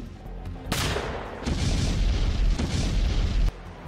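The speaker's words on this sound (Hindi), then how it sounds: "चाहे धमाकों से दहलाते ग्रेनेड हमले हों," Grenade blasts in the Ukraine war: a sudden heavy boom, then a sustained rumbling roar of further explosions that cuts off abruptly, loud and without talk.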